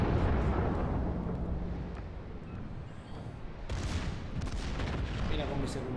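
Naval ship guns, including secondary battery fire, boom in World of Warships, a rumbling roar that fades and then swells again with a sharp burst partway through.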